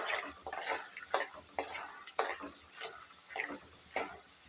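Peanuts frying in oil and being stirred in a pan, giving faint sizzling beneath regular scraping strokes, roughly one every half second.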